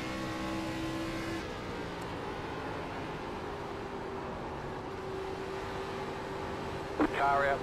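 Race car engines in an ARCA stock car race at Phoenix in the iRacing simulator, a steady sustained drone of engines that shifts pitch midway, with a brief louder burst near the end.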